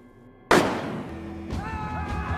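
A single sharp gunshot cracks out suddenly and loudly, then decays quickly, with faint tones following, from a tense standoff scene in a street-warriors television series.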